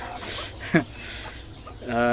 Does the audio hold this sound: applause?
no